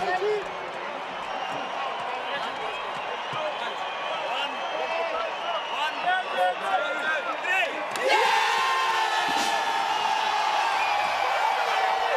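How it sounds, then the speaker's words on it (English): A stadium crowd at the Cape Town Sevens cup final swells into a big cheer as South Africa's captain receives the rugby sevens trophy. Dense, continuous roar under commentary, getting louder and brighter partway through. "And wait for the big cheer."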